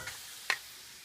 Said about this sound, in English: I'm going to just brown this sausage